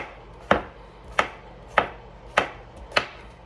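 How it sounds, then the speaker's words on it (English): A knife slices an English cucumber into thin half moons on a cutting board, five crisp, evenly spaced chops about every 0.6 seconds, close and clear with nothing else heard. "And then we're going to thinly slice half moon shapes."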